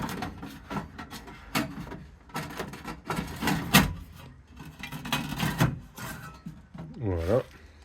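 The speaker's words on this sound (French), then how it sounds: "Je vais remettre la trappe, c'est une trappe qui va en dessous là, pour le tirage, pour fermer un peu tout ça." Wooden and metal scraping, knocking and rubbing as the draft trap door slides back into place beneath a homemade cheese smoker, a series of close, irregular clunks and rasps with no talk.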